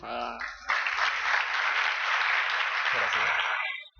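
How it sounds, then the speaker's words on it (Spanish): A university lecture audience on organizational crisis management breaks into applause, a brief burst of dense clapping that cuts in sharply after speech and then tapers off. "Un aplauso"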